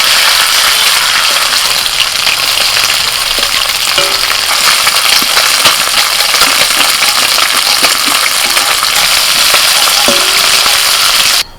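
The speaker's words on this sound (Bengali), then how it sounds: "তেল গরম হয়ে গেছে মাছগুলো ভেজে নিচ্ছি" Fish frying in hot oil, a loud, close, continuous roaring sizzle with occasional faint clinks and spatters, steady from start to finish with no voices.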